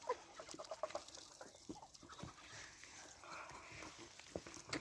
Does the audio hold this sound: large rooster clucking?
yes